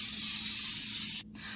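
A steady cooking oil spray onto a waffle iron hisses continuously for over a second, cuts off briefly, then a shorter hissing burst follows, close and moderately loud.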